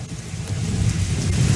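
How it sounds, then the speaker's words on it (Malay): Heavy rain hisses steadily while thunder rolls low and deep beneath it. The storm holds at a constant loud level, with no voices. "saya sedar dari mimpi saya sebab bunyi guruh yang kuat, saya dapat rasakan hujan juga di luar rumah saya"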